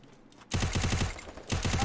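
Rapid automatic gunfire in a competitive shooter video game, loud and sustained bursts with a short pause before resuming, starting after a quiet half-second.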